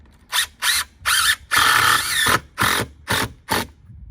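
A power drill drives screws into skirting panels on a manufactured home, countersinking them slightly: seven or eight short, loud whirring bursts with brief pauses, one longer run in the middle, close up with no talking.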